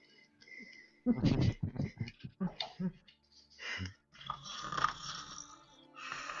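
A person mimics loud snoring during a tabletop role-playing session, with several rough, rasping snorts and breaths spread out in bursts between pauses.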